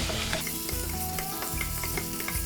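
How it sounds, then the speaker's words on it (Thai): Curry paste and wild boar meat are stir-fried in a pan, a continuous close sizzle with rhythmic scraping strokes of the spatula. "แล้วก็ผัดนะฮะ ผัดให้พริกแกงกับหมูของเราเข้ากันนะครับ"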